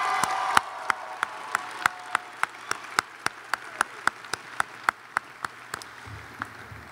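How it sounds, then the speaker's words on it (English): Graduates at a University of Louisville commencement ceremony applaud their families with steady, moderately loud clapping, and sharp individual claps stand out at a regular rhythm throughout. "So graduates, please show your appreciation to your loved ones and give them a round of applause."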